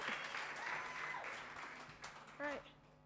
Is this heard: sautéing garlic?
no